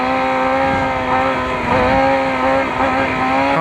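A superbike motorcycle engine of 600 to 1400 cc holds a loud, steady high-revving drone during a wheelie, its pitch dipping and climbing slightly midway as the throttle shifts, with no talking.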